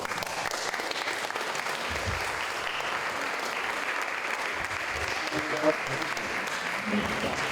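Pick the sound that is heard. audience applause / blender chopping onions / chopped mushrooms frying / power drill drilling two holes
audience applause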